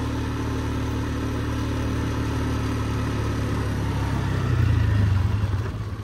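A Polaris off-road vehicle's engine runs steadily with a constant mid-pitched drone, swelling a little louder near the end as it revs up.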